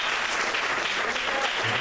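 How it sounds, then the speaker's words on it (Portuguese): A congregation at a farewell church service gives a steady, dense round of applause, many hands clapping together throughout the short stretch. "Uma salva de palmas para você."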